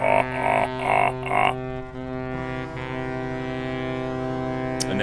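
Deep ship horns honk in a video game with ships and islands, several short blasts in quick succession, then one long sustained low horn tone holding to the end, loud and close.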